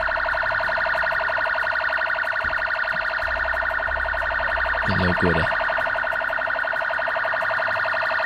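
A loud, continuous Brazilian police siren wails steadily up close during a police chase, its repeating electronic tone filling the scene while a voice briefly speaks.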